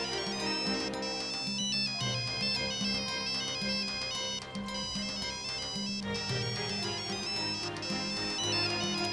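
A mobile phone ringtone plays in a Bangla television drama, a loud melodic tune that continues steadily without pause for several seconds with no talking over it.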